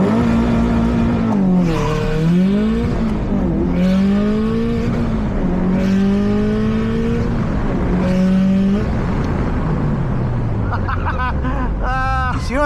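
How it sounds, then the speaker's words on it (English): A 2006 Subaru WRX STI engine revs high and holds near redline for a launch, then surges through rising gears with a loud, straining roar, ending in a quick burst of high revving. "I don't recommend you launch your car at redline unless you want to."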